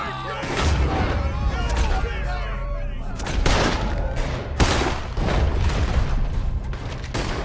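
Gunfire from an outlaw shootout in Red Dead Redemption 2, with several sharp, loud rifle and pistol reports cracking at irregular intervals amid booming echoes, while voices shout and talk over the fighting.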